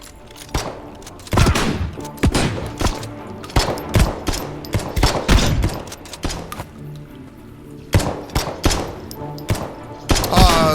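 Video game gunfire in repeated sharp bursts of loud close shots with short gaps between volleys, over game background sound.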